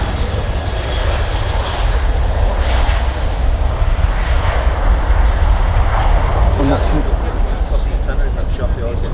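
Ryanair Boeing 737 taking off at Manchester Airport, a loud sustained jet engine roar with rumbling low end, heard from nearby with a voice talking over it.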